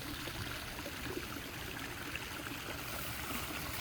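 A backyard pond's water trickles and splashes steadily, with a full, rushing, river-like flow that holds even and unbroken throughout, close by and moderately quiet, with no voices.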